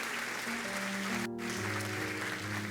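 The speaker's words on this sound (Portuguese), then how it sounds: "Você pode aplaudir ao Senhor?" Church congregation applauding in praise during a worship service, a dense, steady wash of clapping over sustained musical tones from instruments or keyboard.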